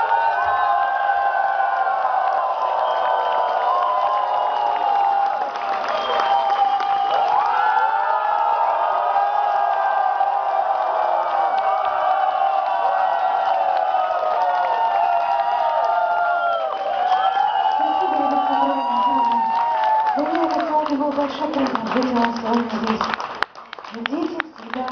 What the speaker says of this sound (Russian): они тебя сейчас обсыпят аплодисментами